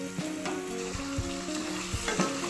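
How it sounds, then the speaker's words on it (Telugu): Tomatoes are tipped into ginger-garlic paste frying in a pan, making a continuous close sizzle with rhythmic spoon knocks and scrapes as they are stirred, with no speech. "ఇప్పుడు దీనిలోకి మనం మెయిన్ ఇంగ్రీడియంట్ టొమాటోస్ యాడ్ చేసేసుకున్నాం."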